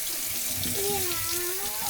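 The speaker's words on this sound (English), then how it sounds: "we're gonna give it a quick rinse now" Cold tap water runs steadily into a sink, rinsing sun-dried tomatoes to wash off excess salt, a close, continuous splashing rush lasting about two seconds.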